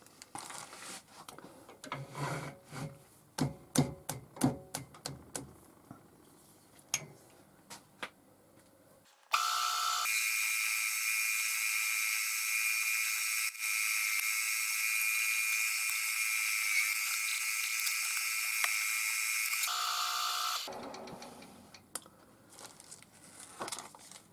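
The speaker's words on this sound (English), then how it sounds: "that's the hole drilled" A small drill bores a hole in a pen, a steady high whine running continuously for about ten seconds, close and loud, after scattered light clicks and handling noises, with more handling as it stops.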